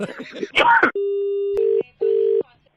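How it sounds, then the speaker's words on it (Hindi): Brief speech gives way to a phone line's steady electronic tone, which cuts off and sounds again in two repeated beeps, like a call ending. "मैं फोन रख रहा हूँ"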